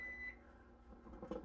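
A microwave oven, just plugged into a portable solar power station, gives a short high electronic beep at the start, then faint hum and low handling noise.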